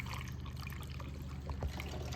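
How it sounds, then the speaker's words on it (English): Distilled water pours through a funnel into the radiator of a 2025 Kawasaki KX250 motocross bike during a coolant flush, a steady close trickle and splash with a low hum beneath. "take your distilled water, and just kind of pour it in."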